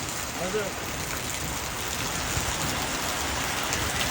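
Heavy rain pouring steadily onto surfaces, a dense continuous hiss with a brief voice heard faintly early on.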